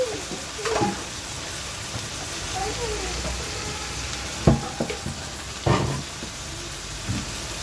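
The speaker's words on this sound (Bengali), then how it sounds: "সবগুলো দিয়ে একসাথে কষিয়ে নিচ্ছি।" Spices with green chilies and tomato for a baila fish curry sauté in mustard oil, giving a steady close sizzle with a few clanking stirs against the pan.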